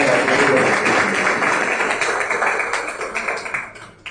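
An audience at a book festival event applauds warmly. The thick, steady clapping fills the room, then thins and fades away over a few seconds.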